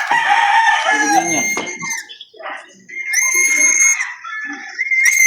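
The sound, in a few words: gamecock rooster crowing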